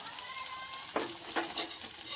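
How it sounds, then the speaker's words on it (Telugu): Green chilies, curry leaves and onions fry in a hot pan at home, a steady close sizzle with a few brief louder spurts of crackling and stirring over about two seconds. "పచ్చిమిర్చి, కరివేపాకు, ఉల్లిగడ్డ 3 వేసి కొంచెం వేగాల"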